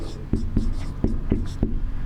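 Chalk tapping and scraping on a board during a class 10 maths lesson, five or six sharp strokes in a quick rhythm, close and fairly loud.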